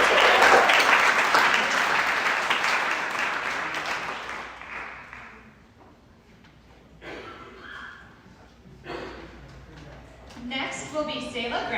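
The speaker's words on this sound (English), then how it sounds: "Let's give Trent a round of applause." Audience applause at a business pitch night, a dense, steady round of clapping that gradually fades out over about five seconds before a voice speaks over the room.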